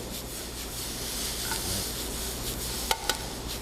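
Chicken sautéing in a pan for chicken Marsala, a steady close sizzle with faint stirring scrapes and two sharp utensil clinks near the end.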